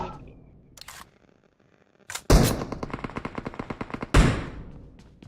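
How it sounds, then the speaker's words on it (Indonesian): Gunfire in PUBG Mobile, a few sharp single shots followed by a loud rapid burst of automatic fire, then another burst, close and punchy with no talk over it. "Tembak terus ya"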